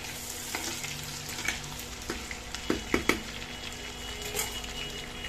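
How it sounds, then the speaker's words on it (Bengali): Potatoes fry in hot oil in a wok with a steady, close sizzle, broken by a few sharp stirring clinks and scrapes; no voices. "কড়াইতে গরম হোক। আলুগুলি ভাজছি।"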